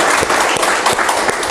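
An audience at a Korean book-launch concert applauds, a dense, steady burst of many hands clapping in a room, loud and close, lasting the whole moment.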